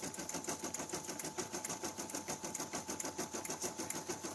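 A sewing machine runs a fast, steady rhythmic clatter while stitching a finishing stitch around the outside of a felt feltie, close and continuous throughout.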